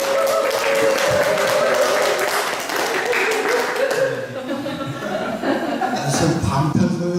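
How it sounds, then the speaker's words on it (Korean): Audience applause at a Korean lecture on social economy, a dense crowd clapping steadily and fairly loud for several seconds, with some chuckling and voices mixed in as a speaker is introduced. "큰 박수"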